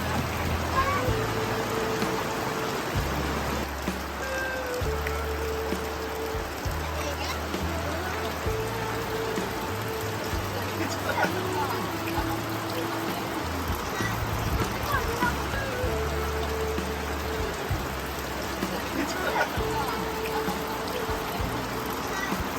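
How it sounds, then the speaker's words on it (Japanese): Heavy rain falls on a highland campground during a family camping trip, a dense, unbroken wash of patter lasting throughout, with scattered drips and low rumbles beneath. "一番の大雨なんじゃなく"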